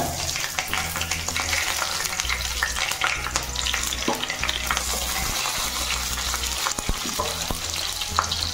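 Bay leaf, panch phoron and green chilli fry in hot oil for a bottle gourd curry, a close, constant crackling sizzle with scattered pops and the scrape of stirring.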